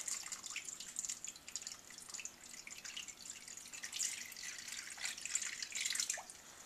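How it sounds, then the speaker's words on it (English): Water runs and trickles softly into a baking dish holding butternut squash halves placed face down. The pour is quiet and continuous with some splashing, and no one speaks. "fill it with 1 inch or 2 of water"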